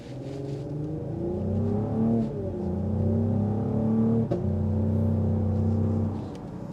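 A 2025 Cadillac CT5-V with 360 horsepower and 405 pound-feet of torque pulls hard from 0 to 60, its engine note climbing steadily, dropping briefly at two gear shifts, then rising again, heard from inside the cabin.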